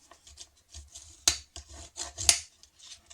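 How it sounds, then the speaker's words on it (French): Paper being creased firmly to fold an envelope, soft rubbing strokes close up with two sharper scraping presses, short and irregular, no voices. "on va bien marquer les plis"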